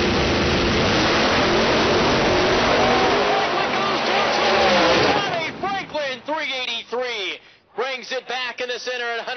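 A drag race car, a Chevrolet, launches and roars loudly down the right side of the US 131 Dragway, its engine noise building for several seconds before the driver lifts off the gas, with an announcer talking over it.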